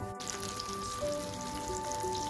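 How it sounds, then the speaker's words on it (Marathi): Mudskipper fish shallow-frying in oil over a medium flame, giving a dense, even sizzle that stays close and constant for a couple of seconds. "आता हे आपण एका बाजूने पूर्ण मीडियम फ्लेमवर खरपूस तळून घ्यायचे आहेत"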